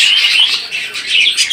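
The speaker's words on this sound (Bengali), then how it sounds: "এখানে রয়েছে ডিম সহকারে একজোড়া ঘুঘু পাখি দেখতে পাচ্ছেন" Birds call at a busy bird market where a pair of doves with eggs is on sale, bright chirping tweets close by and fairly loud, rising and falling over a short stretch.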